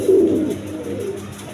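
Pet pigeons kept for sale give a brief, close coo that fades into soft low murmuring.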